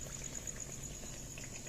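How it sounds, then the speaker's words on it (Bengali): Eggplant fritters fry in hot oil, giving a soft, steady bubbling and sizzle heard close up at low volume, with no voices. "দেখো বেগুনি ভাজছে"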